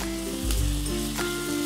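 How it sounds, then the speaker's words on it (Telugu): Chopped onion sizzling in hot oil in a pan, a close, loud, steady fry with a couple of brief stirring bursts over a short stretch, no voices. "ఈ ఉల్లిపాయని ట్రాన్స్పరెంట్గా అయ్యే వరకు వేయించుకోవాలి"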